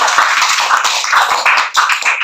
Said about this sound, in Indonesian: silakan tepuk tangan untuk kelompok 3